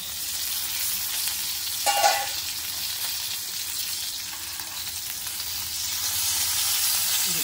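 Stuffed green chillies sizzle steadily in a hot pan, a continuous close frying hiss with a brief clatter near two seconds as they are turned over.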